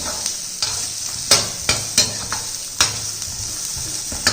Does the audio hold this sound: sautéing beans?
yes